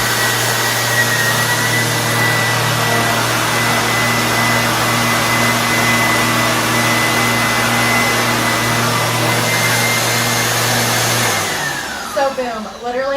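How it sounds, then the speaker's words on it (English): A Bissell CleanView Swivel Rewind vacuum cleaner runs on a hardwood floor picking up crumbs, a loud steady motor whine with a constant hum that winds down near the end. "I'm going to go ahead and turn on the vacuum cleaner with the red button"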